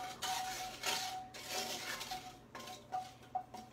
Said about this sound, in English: just sort of going to scrape some of this up